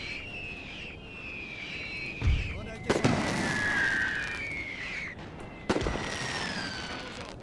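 Howitzer artillery in the Napoleon: Total War game, set in a Great War era battle, with several sharp booming shots landing at intervals over a sustained whistling drone and a low hum.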